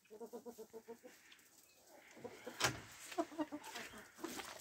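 Cochin rooster and chickens in a farmyard, soft repeated clucking at a distance, faint and rhythmic at first, then scattered calls with some background noise.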